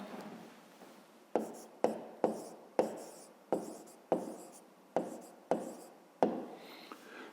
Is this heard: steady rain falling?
no